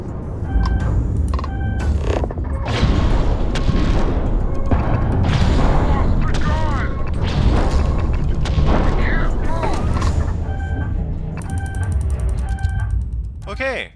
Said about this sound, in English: I can alternate between them while firing, basically doubling my fire rate